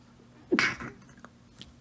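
A single sharp sneeze bursts out at close range, followed by a short quiet tail and a faint soft sniff.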